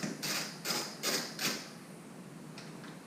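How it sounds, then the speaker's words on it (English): A wrench works a 12 mm bolt free from the passenger grab rail of a 2018 Honda Goldwing Tour, giving four quick metallic ratcheting bursts in a row, then a fainter one, close up with no talking. "Now you have to remove the left and the right passenger grab rail. This is a 12 millimeter 12 millimeter bolt."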